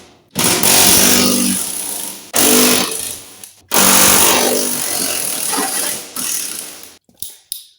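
Ratchet spinning off half-inch fender bolts on a 1989 Dodge Dakota during teardown, loud close metallic clicking and whirring in several long bursts separated by short pauses, with no talking.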